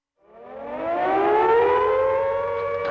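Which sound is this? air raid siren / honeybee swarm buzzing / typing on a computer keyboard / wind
air raid siren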